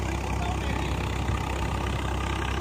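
Swaraj 855 50 HP tractor running a 9 ft rotavator at about 1400 RPM with the lever fully down, a loud, steady engine drone with low rumbling that holds unbroken throughout, close up.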